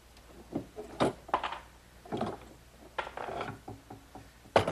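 Bar clamps are loosened and taken off a glued wooden tabletop blank for a candle stand, giving scattered clanks, ratcheting clicks and metallic rattles at close range in a quiet workshop.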